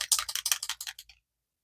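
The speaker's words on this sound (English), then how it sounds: "so you really need to shake it up well" Distress Oxide spray bottle being shaken hard, a quick rhythmic rattle of about a dozen close, sharp strokes that taper off and stop, followed by silence.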